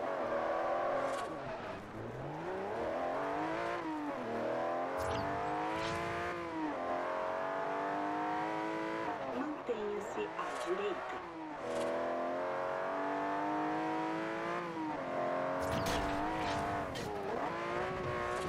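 Race cars in the Forza Horizon video game rev and shift through gears, engine pitch sweeping up and down repeatedly with brief tire noise, while someone talks over the game sounds.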